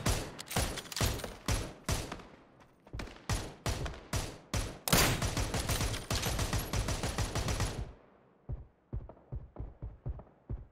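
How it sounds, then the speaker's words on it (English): Rapid bursts of machine gun fire in a shooter video game, a louder close stream of shots followed by a sparser, quieter string of single cracks. "Somebody else shooting at them."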